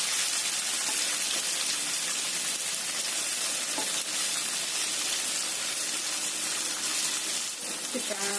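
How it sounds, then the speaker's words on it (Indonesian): Tofu sizzles and crackles steadily in hot cooking oil, a dense, loud frying hiss that fills the whole stretch with faint clinks of a utensil now and then. "Kemudian kita goreng dulu tahunya"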